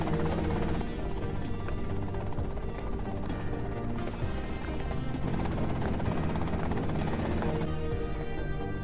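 Helicopter in Grand Theft Auto: Vice City, a continuous loud rotor thrum with a steady engine drone, close and unbroken, with no voices.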